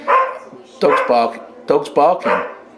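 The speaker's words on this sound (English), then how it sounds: "Dog's barking." A dog barks several times in quick bursts, close by, with yelping, whiny tones between barks.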